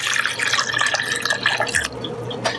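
Coffee is poured quickly into a measuring cup lined with tissue, making a steady close splashing trickle with some dripping over a few seconds and no talk.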